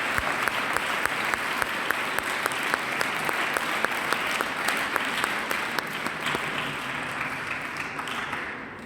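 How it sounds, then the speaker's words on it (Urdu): A church congregation applauds two priests at a jubilee celebration, steady rhythmic clapping from many hands with some distinct claps standing out, sustained throughout before thinning slightly at the end. "تو آئیے ان دو نوجوان کاہنوں کے لیے بھرپور تالیوں میں خدا کا شکر ہے"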